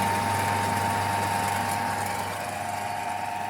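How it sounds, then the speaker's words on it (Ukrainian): An electric motor on a Rotex 100 pellet mill runs steadily under load, a continuous loud mechanical drone with a constant hum and faint rattling texture, with no talk over it. "Відчувається, пішов навантаження двигун."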